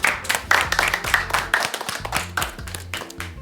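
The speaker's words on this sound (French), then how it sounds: "on peut vous applaudir" A quiz-show studio audience claps in a brisk, roughly rhythmic run of hand claps, layered over playing music and lasting the whole stretch without talking.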